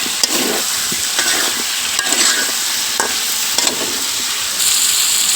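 Papaya pieces are stirred into fried spice masala in a pan for a tilapia fish curry, under a constant close sizzle with a spoon scraping through the mixture roughly once a second.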